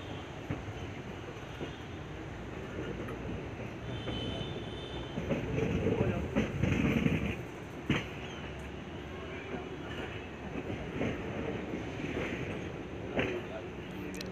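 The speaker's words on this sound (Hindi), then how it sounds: "धीरे धीरे हमारी ट्रेन प्लेटफार्म नंबर 1 की ओर जा रही थी।" A train rolls slowly toward platform 1 at Bareilly Junction, a steady low rumble and clatter heard from inside the carriage, swelling briefly midway, with faint voices and scattered clicks.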